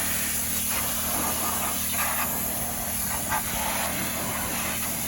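A spray nozzle rinses a car frame during mobile detailing, a steady close hiss of water with a constant background machine drone.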